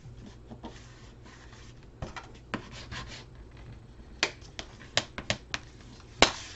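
Paper being folded and creased by hand while making a handmade card holder, close, quiet crinkles and sharp little snaps and taps in irregular bursts, with no talking.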